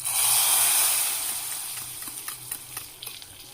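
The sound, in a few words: tempering poured into dhal, sizzling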